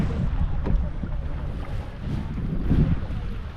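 A small boat being paddled on Abraham Lake in Alberta, low sloshing of water and wind buffeting the microphone, with soft splashes and a faint voice in the background.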